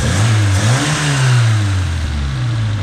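A car engine, just adjusted, holds its revs after a brief rise and fall, a loud, smooth droning hum settling to a steady tone, close by with no talking.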